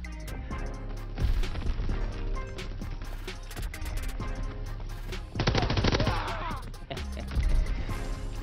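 Bursts of automatic gunfire and explosions from the World War II shooter Call of Duty WW2 rattle loudly and close, in rapid repeated volleys with a heavy blast near the middle, while background game sounds continue.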